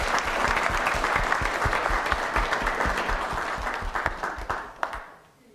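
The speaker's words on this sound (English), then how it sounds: "everybody clap your hands." Audience clapping in rhythm at a live event, a dense steady patter of many hands that fades out near the end.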